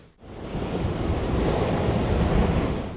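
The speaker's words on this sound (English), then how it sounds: "Tidal fury in Mangalore." Stormy sea surf pounds the coast of a village near Mangalore under cyclonic weather over the Arabian Sea, a loud, continuous roar of breaking waves mixed with wind buffeting the microphone, rising from near silence in the first instant.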